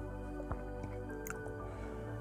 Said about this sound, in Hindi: यहाँ इन जड़ों से लगातार पानी निकल रहा है